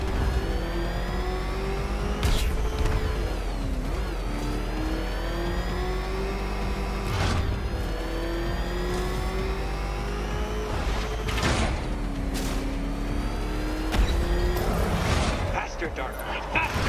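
A Batmobile engine in Batman Arkham Knight drones steadily at high revs throughout, rising and falling in pitch with brief surges of acceleration, loud and continuous.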